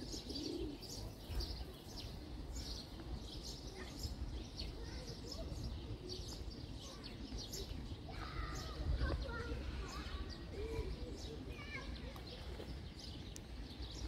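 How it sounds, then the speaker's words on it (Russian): Soft pigeon coos and chirps sound faintly outdoors in Globa Park, Dnipro, Ukraine, amid steady ambient noise and murmuring voices, with an occasional flutter of wings. "голубям послушать их песню"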